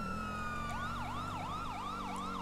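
An ambulance siren in a police role-play video game wails in a fast, repeating up-down sweep over a steady background hum, moderately loud, with no talk.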